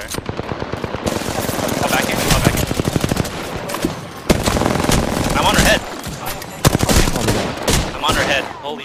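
Rapid automatic gunfire in the Apex Legends battle royale shooter, dense bursts of shots rattling near and far across the whole stretch, with a player talking over the firefight.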